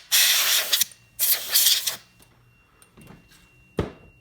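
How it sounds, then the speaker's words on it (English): A can of compressed air sprays into a smoke detector on a Simplex fire alarm system: two loud hissing bursts of about a second each, then quiet handling clicks and a short final puff. "I'm going to take my can of air and spray out the smoke detector"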